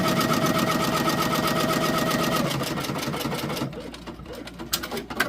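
A loud sewing machine stitches fabric for a sublimation patch with a fast, steady mechanical chatter, close and continuous for several seconds before slowing and giving way to scattered clicks and handling noise.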